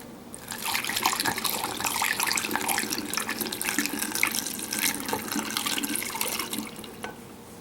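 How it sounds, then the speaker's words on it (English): One liter of hop tea poured into a beer fermenter holding cooled wort while brewing a blonde ale, a steady splashing pour of liquid lasting several seconds, close and moderately loud, no voices. "I'm going to add the 1 liter of hop tea."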